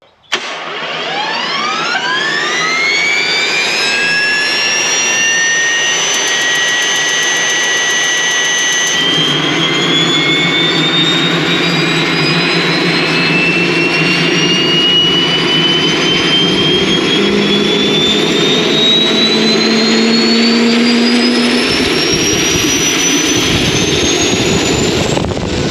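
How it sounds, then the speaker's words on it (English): Gas turbine engine starting up, a long rising whine that spools higher over many seconds, then a deeper roar joins as it lights and keeps climbing, loud and close with no talking. "My favorite sound in the world is a gas turbine starting,"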